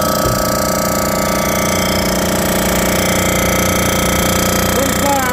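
Cylinder heads from a 350 Chevy engine being surfaced on a resurfacing machine, giving a loud, continuous mechanical whir and grinding drone with a steady rhythmic chatter throughout.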